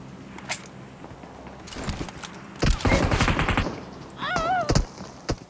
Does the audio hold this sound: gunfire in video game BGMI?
yes